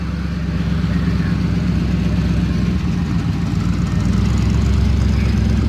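A 1978 Chevy C10 pickup truck with a new exhaust idles steadily nearby, a deep, even rumble that holds without revving for several seconds.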